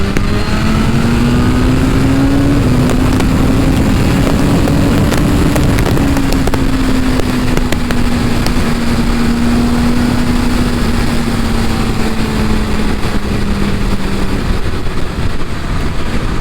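A motorcycle fitted with an upgraded performance chain is pulled hard along a highway flyover in Varanasi, its steady engine drone loud and close over heavy wind rush, with the pitch rising slowly and then easing off.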